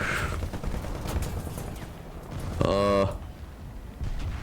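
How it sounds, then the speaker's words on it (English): Gunfire in the tank combat game War Thunder at low tier, heard as a loud burst of shots, with a brief rapid run of cracks in the middle of a noisy battle bed; someone talks over it. "now we're gonna turn around and see what's shooting us"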